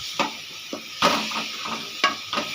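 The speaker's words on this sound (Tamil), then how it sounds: "சிக்கன் நல்லா வதக்கிக்கலாம்" Chicken sautéing in a pan for a chicken curry: a soft steady sizzle runs underneath while several sharp clanks of a spatula against the pan stand out, close and fairly quiet.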